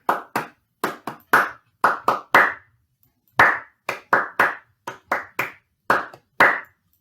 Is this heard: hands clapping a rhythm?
yes